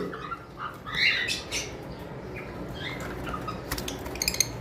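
A pair of small pet parrots, lovebirds or parrotlets, squawk in short, sharp bursts through a noisy room, with a few louder shrill calls near the end and faint clattering in the background.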